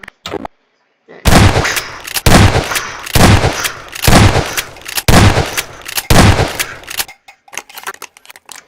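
Gunfire in a film: six loud, evenly spaced bursts of shots, roughly one per second, close and sharp, after a brief silence and trailing off into quieter rattles.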